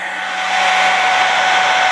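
A hair dryer set on low runs steadily inside a hole cut in a perforated bucket, blowing air over wet cathedral clock parts, a close, continuous airy whir with a faint tonal hum.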